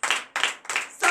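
Several short bursts of hand clapping at a morning prayer service in Benin, each lasting a fraction of a second, with brief gaps between them.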